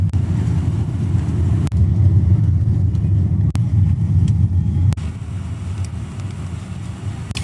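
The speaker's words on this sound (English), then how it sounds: "So the traffic has been pretty gridlocked like this most of the journey" Inside a taxi car crawling through gridlocked Jakarta traffic, with a steady low engine and road rumble and a few faint knocks and thumps, no one speaking.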